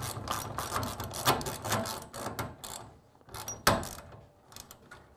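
A ratchet clicks in rapid bursts while tightening the cable on a garage door drum to fix a crooked door, with a short pause before a final run of clicks.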